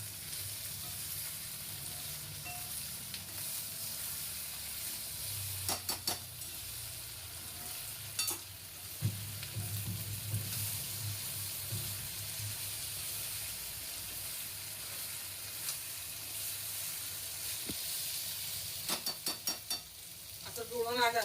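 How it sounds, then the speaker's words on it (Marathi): Onion and potato cooking in a pan over low gas, a steady soft sizzle and hiss running throughout with occasional short clinks and stirring scrapes. "याला कमी गॅस वरती चांगलं शिजवून द्यायचं. आपोआप शिजून येतं सगळं ते कांदा बटाटा"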